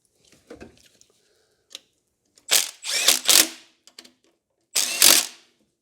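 Ratchet clicks and clunks as two 10mm bolts are tightened onto an engine bracket during a Honda Civic EG hatch GSR engine install. A few faint ticks come first, then two loud clusters of rapid ratcheting.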